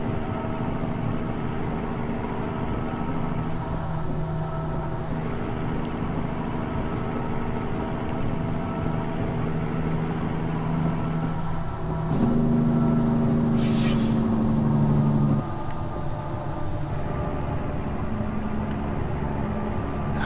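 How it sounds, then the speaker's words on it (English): Steady low diesel rumble of a Cat C15 engine sound mod in American Truck Simulator, loud and constant, with high whines gliding up and down, a brief louder tonal stretch midway, and no voices. "I do like this engine sound. It sounds good in this truck."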